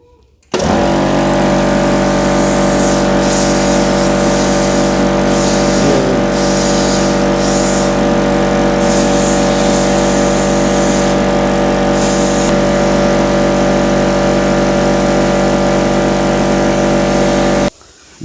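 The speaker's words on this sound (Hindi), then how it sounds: "आगे लगा दिए है स्टॉपर, तो कंप्रेसर को चलाते हैं।" An air compressor fitted with a moisture filter, used for target shooting, starts abruptly and runs with a loud, steady droning hum for about seventeen seconds before cutting off.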